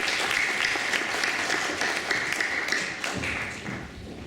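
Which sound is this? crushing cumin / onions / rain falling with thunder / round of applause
round of applause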